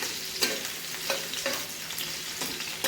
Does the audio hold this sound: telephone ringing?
no